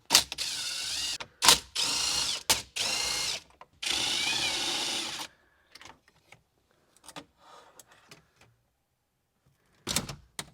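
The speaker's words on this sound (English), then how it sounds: "What we have is a deep socket with an extension just to kind of get back in there." Deep socket on an extension loosening 10mm bolts in a Toyota Sienna dash, several loud whirring bursts of a power driver separated by pauses, then faint clicks and rattles of metal parts.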